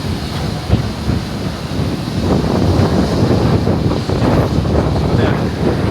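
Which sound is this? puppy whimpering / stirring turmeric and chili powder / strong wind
strong wind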